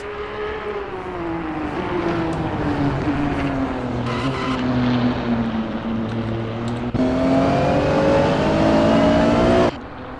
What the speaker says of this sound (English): Jack Ivy out there just kind of touring around the Nordschleife.